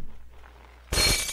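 A sudden crash of breaking glass in the video game Death Wheels bursts in after a quiet moment, one loud shattering hit that rings on briefly without any voices.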